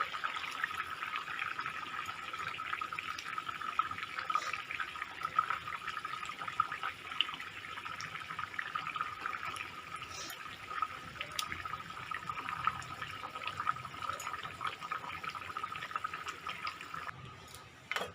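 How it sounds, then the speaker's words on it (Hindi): A dhaba-style fish curry bubbling in a pan on a gas flame, a steady close hiss of boiling with small pops and crackles, continuous and alone for most of the stretch. "एबे देखंतु तरकारी फुटिलानी"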